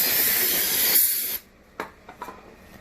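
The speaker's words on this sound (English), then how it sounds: "we're gonna go ahead and spray this one down as well" A sustained, loud hissing spray of cleaner from a nozzle onto a K20 engine part for over a second, then it stops, followed by a few faint clicks and light handling sounds.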